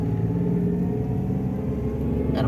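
Toyota Agya automatic climbing a hill in first gear, its engine holding a steady, close, low-pitched droning rev for the whole stretch with no voices over it.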